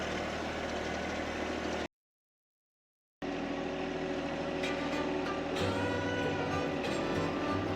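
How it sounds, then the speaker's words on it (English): A tractor engine runs steadily at a trail-cutting job, a loud continuous low rumble that drops out briefly to silence before resuming with some rattling clanks on top. "I don't know what I would do if we didn't have this tractor."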